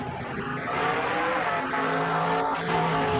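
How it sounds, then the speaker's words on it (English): A car drives past on a road, a steady near engine-and-tyre rush that swells and shifts in pitch as it goes by, with no voices. "The sound of a car will always depend on the direction it's traveling. A car moving towards me sounds high-pitched."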